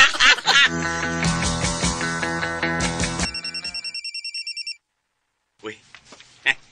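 A mobile phone rings loudly in repeated electronic bursts that cut off abruptly, with laughter and voices before it and brief sounds after a short silence.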